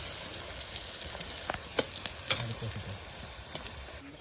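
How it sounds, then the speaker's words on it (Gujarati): Millet flatbread stirred into a garlic mixture in a pan, a soft, quiet sizzle with scattered scraping and clattering stirring strokes. "હવે આપણે રોટલો નાખીશું"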